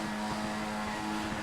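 Racing car engines in a sim racing game at Oulton Park, revving steadily as the start lights come on, a dense continuous drone with no speech over it.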